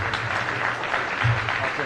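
An audience claps steadily for the mayor at a State of the City address in Jackson, Michigan, a moderate, continuous patter of applause with voices murmuring beneath it.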